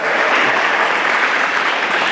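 A church congregation applauds continuously, a dense, even wash of clapping from many hands with no talk over it.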